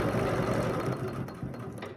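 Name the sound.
sewing machine free-motion stitching an arc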